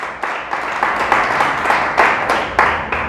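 Congregation in a church giving God a loud round of applause, rhythmic group clapping in steady pulses, fairly close and sustained throughout without voices on top.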